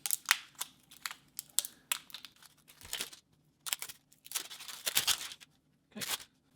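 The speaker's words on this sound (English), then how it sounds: "we've got the cellophane off now." Cellophane wrapping being torn and crinkled off a JOOLA Omega Speed pickleball paddle, heard up close as a string of sharp crackles and rustling bursts in irregular clusters.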